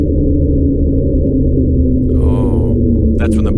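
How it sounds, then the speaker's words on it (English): The Slowdown, an underwater sound credited to ice quakes, heard as a continuous deep rumbling drone with a long descending tonal sweep partway through, then a brief crackly burst near the end. "Here's an audio sample of the slowdown."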